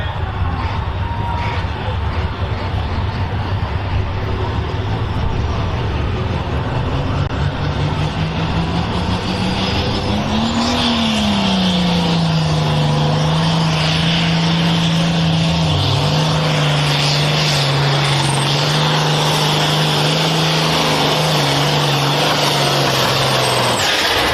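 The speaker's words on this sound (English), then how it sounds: "Something definitely come apart in the engine on that tractor." A heavy pulling-tractor engine roars continuously at high revs during a tractor pull at a county fair, its pitch climbing and then settling, amid loud rumbling noise throughout; something comes apart in the engine.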